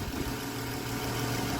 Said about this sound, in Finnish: Siinä on moottori. V6 ja erittäin hyvin käy.